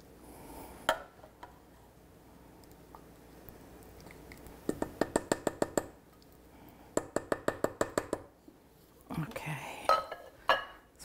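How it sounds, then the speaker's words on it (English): A spoon stirs sour cream into a bowl for cheddar chicken enchiladas, making two quick runs of rhythmic clinks against the bowl between quieter stretches of faint kitchen noise. "I'm gonna go ahead and stir it right in."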